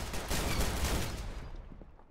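Gunfire from the Roblox game Arsenal, a dense burst of loud, overlapping shots packed close together in the first half, fading to softer scattered reports toward the end, with no talk over it.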